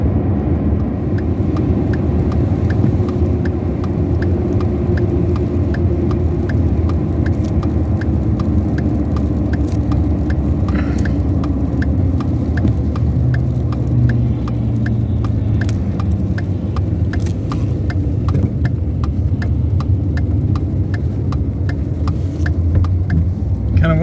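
A car driving along a road in Alaska, heard from inside as a steady low engine drone and road rumble that stays constant and loud throughout.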